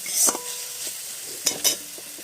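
Onion frying with chilli powder and turmeric while being stirred in a pan, a soft continuous sizzle broken by a few sharp scraping strokes of the spoon.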